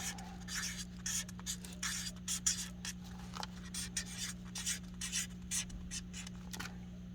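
A pen scratches out writing in a travel sketchbook, close and quiet, in quick irregular strokes and short bursts over a steady low hum.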